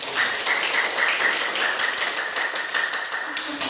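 A class of 12th-grade students claps hands together in a classroom, a dense steady patter of many hands filling a few seconds without a break.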